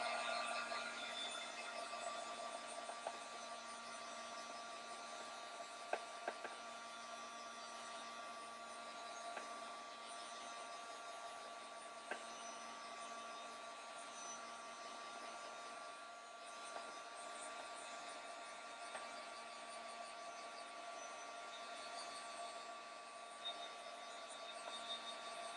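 A heat tool blowing hot air to dry a mixed media card, a steady faint whirring hum held unbroken for a long stretch, with a few small clicks and no talk.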